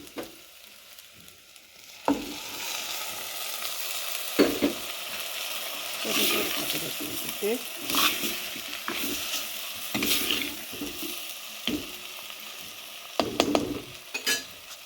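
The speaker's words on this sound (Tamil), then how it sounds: "எல்லாம் வதங்கிட்டு இந்த அவிச்சு வச்சிருக்கிற கனவாயை இதுக்க போடணும்." Boiled cuttlefish sizzles and fries in a pan for a Jaffna-style spicy curry, with a steady crackle broken by repeated scraping stirs and occasional utensil clinks, close and fairly clear, with no talking.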